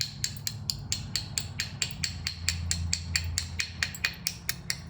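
Flint being knapped near the tip of a stone preform for a Bolen bevel point: a quick, even series of sharp, close clicks and taps over a quiet low hum.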